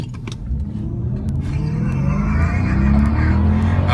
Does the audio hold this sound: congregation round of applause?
no